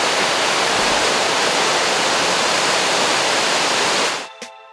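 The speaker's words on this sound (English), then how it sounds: "Waterfall's pretty too." Steady, dense roar of a waterfall on Maui fills the scene at full strength, then cuts off abruptly near the end, leaving a brief quiet tail.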